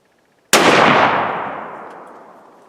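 A single close, sharp blast from a Winchester full-choke shotgun firing at a pattern-test target, breaking out of near silence and then echoing into a long, fading outdoor decay.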